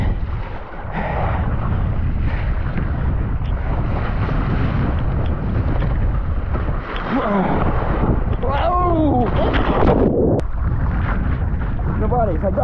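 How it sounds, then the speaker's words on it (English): Heavy 45-knot wind roars and buffets the microphone during wing foiling in a sustained rush that swells stronger, with a voice calling out briefly over it. "Gust coming."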